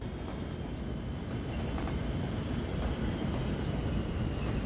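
Steady, dense rumble of many rolling trains at a rail junction in the video game Cities: Skylines, with faint rhythmic clatter, continuous and fairly loud throughout, no voices.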